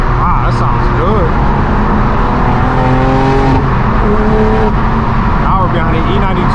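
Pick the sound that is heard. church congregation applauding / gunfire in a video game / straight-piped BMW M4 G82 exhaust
straight-piped BMW M4 G82 exhaust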